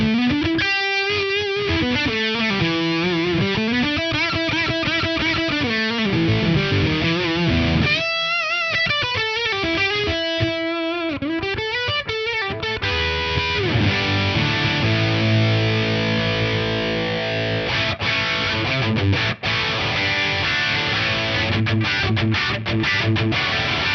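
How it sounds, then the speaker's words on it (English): Sansamp PSA-1 preamp pushed into fuzz-like distortion with its buzz control cranked, a loud guitar playing sustained melodic lines and then chugging chords, continuous and upfront with no talking. "if you crank the buzz, you kind of get a fuzz sort of thing."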